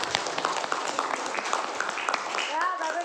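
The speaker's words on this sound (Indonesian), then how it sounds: "Tepuk tangan untuk kelompok 1." A classroom of students claps for a group that has just finished a presentation, the applause dense and steady throughout with voices chattering and calling out over it.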